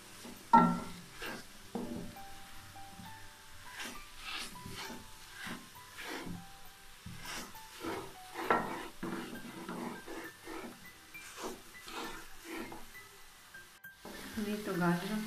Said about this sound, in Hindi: चम्मच चलाते रहना और उसको इतना भूनना है कि ये घी से अलग हो जाए